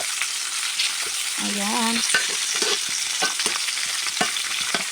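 Chicken and ginger stir-fry in a hot pan with a constant loud sizzle close up, broken by scraping and clacking of a spatula tossing the pieces; a brief voice speaks partway through.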